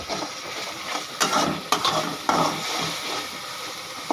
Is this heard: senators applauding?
no